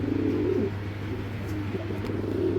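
Giribaz pigeons coo softly in repeated low throaty phrases over a steady hum of background noise, close by and without any talking.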